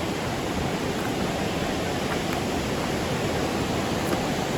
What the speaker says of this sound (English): Especially when it's a water crossing like this one.